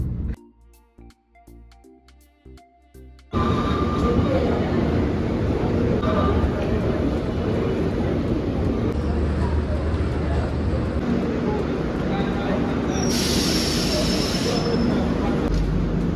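An Indian Railways train runs along with a loud, continuous rumble and rattle of wheels and carriages, with a high squeal near the end and voices murmuring underneath, after a few sharp clicks at the start.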